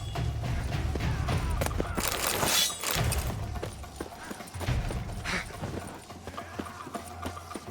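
Horses' hooves clip-clopping in The Witcher 3 video game, a busy stream of hoofbeats mixed with rumbling wagon noise and a sharp crash partway through, fairly loud and continuous throughout.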